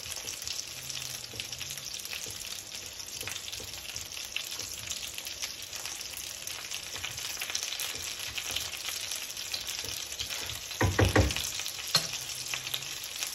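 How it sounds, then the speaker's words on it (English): A tablespoon of butter melting in a hot pan gives a soft, steady sizzle and crackle that continues evenly, with a brief louder clatter of the pan or utensil near the end. "One tablespoon of butter. that butter melts"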